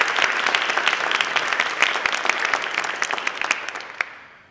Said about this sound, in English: Let's give the whole district a round of applause.